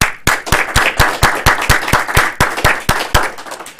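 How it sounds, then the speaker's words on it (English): A Toastmasters club audience applauds its Toastmaster at the end of an evening meeting, with loud, close, irregular claps building into a steady round of applause that lasts throughout. "Let's have a round of applause for our Toastmaster who ably fulfilled his duties this evening as Toastmaster"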